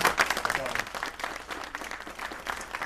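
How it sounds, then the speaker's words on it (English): Audience applause at a community campaign event for a Los Angeles mayoral hopeful, a dense wash of clapping that starts loud and stays steady for about three seconds, with some voices mixed in. "Let's give them another round of applause."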